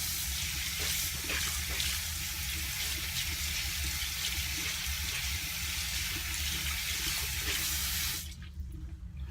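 Tap water runs steadily from a faucet into a sink to wet a beauty product, a broad continuous rushing hiss that holds close and loud, then cuts off abruptly near the end.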